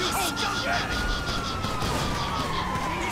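Wailing police siren from a Bugatti Veyron police car in the video game GTA 5 with a mod, a steady loud rising-and-falling tone mixed with engine and game noise.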